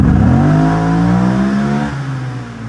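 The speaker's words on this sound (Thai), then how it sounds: "ลองเร่งกันดูนะครับ" A stock-engined 2015 Aprilia SRV850 ABS motorcycle accelerates hard and loud, its engine note climbing steadily in pitch for nearly three seconds with no one talking.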